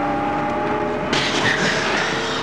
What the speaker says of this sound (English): Floor this bus and just keep it that way until I tell you to back off.